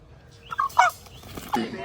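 Wild Aseel rooster squawking and clucking in a few short, loud bursts as someone tries to catch it, with faint background noise between calls.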